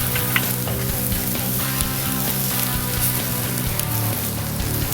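Scruff steaks sizzling loudly and steadily on a hot grill just after being flipped, a dense continuous crackle with no talking.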